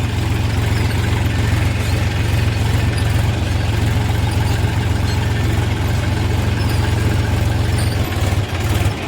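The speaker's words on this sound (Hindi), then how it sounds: "भाइयों अब आप इसकी आवाज़ सुन लीजिए, ये 800 RPM पे है, कैसे झटके दे रहा है।" A Massey 245 DI tractor engine runs at 800 RPM, a loud, close, continuous low diesel chug with a jerky, pulsing rhythm held steady throughout.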